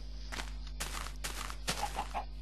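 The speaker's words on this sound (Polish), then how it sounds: "Tak, kurka sobie popyla" A chicken in Minecraft clucks softly in short bursts while its footsteps patter along, with a steady low hum in the background.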